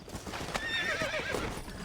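A horse in the Red Dead Redemption video game whinnies loudly in a wavering, drawn-out neigh while hooves clop irregularly beneath, close and lively throughout.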